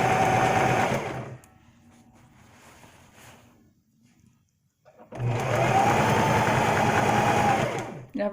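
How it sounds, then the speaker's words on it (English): A sewing machine stitches fabric in two loud, sustained runs separated by a few seconds of quieter handling and pause, the motor whirring steadily up close. "sew up the other side, flip it outside"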